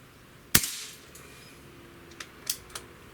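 A single sharp crack from an Air Arms S500xs air rifle shot outdoors, followed by a few faint metallic clicks and taps in a quiet setting.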